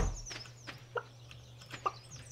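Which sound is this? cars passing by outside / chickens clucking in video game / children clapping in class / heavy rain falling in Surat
chickens clucking in video game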